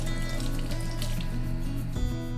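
Water runs from a kitchen tap as chopstick tips are wetted, a steady close hiss and splash with faint hum behind it.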